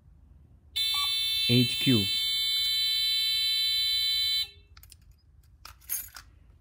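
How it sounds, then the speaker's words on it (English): A security alarm panel sounding after a zone violation, a loud steady electronic tone lasting several seconds alone, with a brief voice over it near the start and talk after it stops. "as you can see, there's an alarm"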